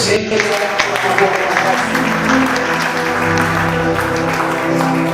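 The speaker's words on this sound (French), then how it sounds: "Acclame très fort." Loud, sustained applause from a church congregation at a Sunday worship service fills the clip, continuous and dense with crowd noise and a steady musical hum underneath.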